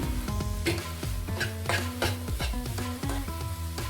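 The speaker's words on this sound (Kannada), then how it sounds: "ಬುರ್ಜಿ ಆಗೋವರೆಗೂ ಈ ಥರ ಫ್ರೈ ಮಾಡ್ಕೊಳ್ಳಿ." Egg bhurji frying and being stirred in a pan, with steady sizzling and repeated scraping strokes of a spatula, close up and continuous with no talk.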